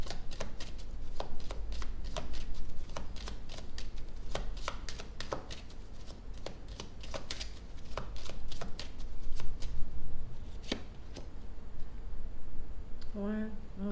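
Tarot cards shuffled and laid down during a reading: a long run of crisp, irregular taps and riffles close by, with a few sharper slaps near the end, steady throughout and with no one talking.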